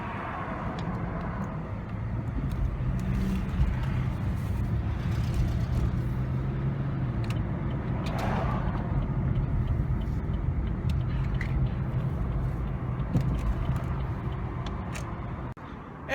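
A car makes a short drive across the street to a Goodwill store. Steady interior road rumble and engine hum continue without a break, with no one speaking.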